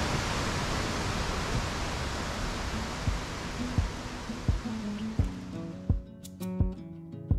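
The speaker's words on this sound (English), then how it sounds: "So we're at the fourth and final waterfall." Sgwd yr Eira waterfall in Wales pours with a dense, steady roar of falling water that fills the space, and faint knocks recur through it as the rush suddenly cuts away near the end.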